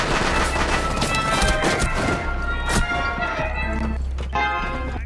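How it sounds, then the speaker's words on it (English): Gunfire in Rainbow Six Siege, a loud dense stretch of shots and impacts that thins toward the end, with game noise underneath and no clear talk. "Boy, he's shooting."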